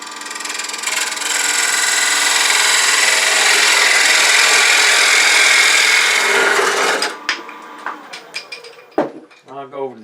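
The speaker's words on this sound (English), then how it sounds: "I'm going to come in with my thin parting tool." A thin parting tool cuts into a square wooden workpiece spinning on a lathe at about 1200 rpm, giving a steady loud rasping scrape for about seven seconds before it stops and a few clicks and light knocks follow.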